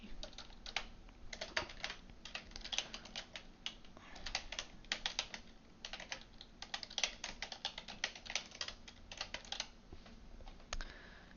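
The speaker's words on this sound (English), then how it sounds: "I will type in my URL" Rapid, steady keystrokes on a computer keyboard as a URL is entered, close clicking in dense bursts with short pauses, no voices.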